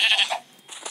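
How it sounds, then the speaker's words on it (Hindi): A sheep in the Minecraft video game gives a short, bright bleat, heard close and alone, followed by a faint second call. "ये मेरी भेड़ है"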